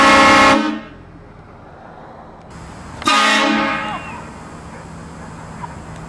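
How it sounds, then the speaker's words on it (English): Two loud, close blasts from a train horn used in a prank on the street, each lasting under a second and separated by a pause of steady background noise. "That's a loud horn, huh?"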